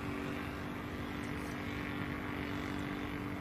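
Ben Buckle Super Buccaneer RC model airplane droning steadily in flight, a continuous engine hum held at even loudness throughout with no talk.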